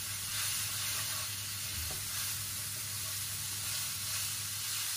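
An egg muffin mixture sizzles and hisses steadily in a hot pan while it is stirred, giving a close, continuous frying crackle with a faint scrape of the stirring and no voices.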